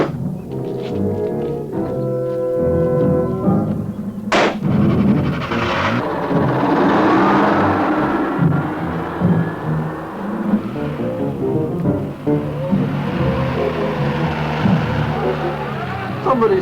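A stolen car's engine revs and drives away, a loud close roar that swells and holds, following a sharp bang and tonal sounds near the start.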